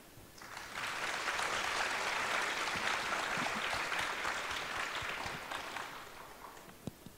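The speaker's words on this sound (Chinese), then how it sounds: "我们应该以最最热烈的掌声欢迎我们这位88岁的老人" An audience at a mobile internet conference applauds to welcome the 88-year-old poet Yu Guangzhong, a dense sustained clapping that swells quickly, holds for several seconds, then fades with a few last claps.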